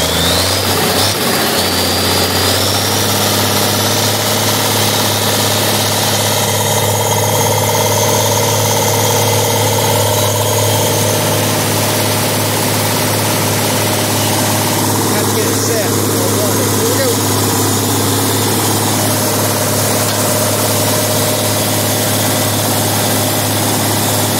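A hay mowing machine engine starts with a brief rough burst, then settles into a loud, steady, droning idle that runs on continuously at close range.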